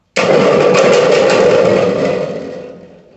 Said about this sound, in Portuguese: parece que é o som de um trovão